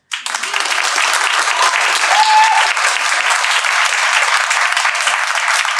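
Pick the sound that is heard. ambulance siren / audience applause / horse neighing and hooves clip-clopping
audience applause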